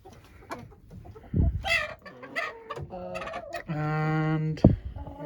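Chickens in a new shed cluck and squawk close by in uneven bursts, with one hen letting out a long, loud drawn-out call near the end.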